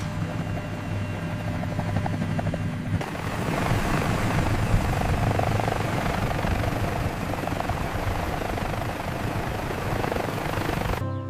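A cartoon toy helicopter hovers low to blow wind over flowers, making a loud, continuous rotor buzz and whoosh that kicks in strongly after a softer opening and holds steady.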